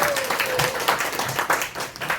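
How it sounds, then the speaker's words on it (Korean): An audience of teachers at an education gathering gives a brief round of applause, with a patter of claps that swells and thins for a couple of seconds. "큰 박수 부탁드리겠습니다."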